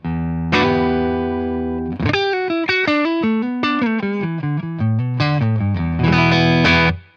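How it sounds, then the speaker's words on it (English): Electric guitar with vintage-output Fender pickups driven through a boutique overdrive pedal, a held chord followed by a quick run of distorted single notes and a final strummed chord, loud and close with no talk. "these are vintage output Fender pickups, so it's still distorting really nice"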